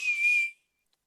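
A voice imitates wind whistling through a rental trailer window during a sand storm: a single thin, steady whistle held for about half a second, then cut off into silence.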